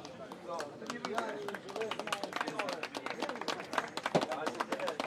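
Audience at a knights' tournament in Grunwald claps in a dense, fairly steady patter of applause, moderately loud and continuous, with voices mixed in underneath.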